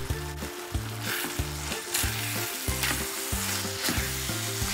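Bitter melon and beef stir-fried with sesame oil, a strong close sizzle broken by rhythmic scraping strokes of a utensil against the pan, repeating about every second.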